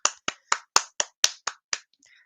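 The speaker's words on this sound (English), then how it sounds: "Let's get a round of applause." A small round of applause, heard as eight sharp, evenly spaced claps in quick succession, close and crisp with no other sound around them.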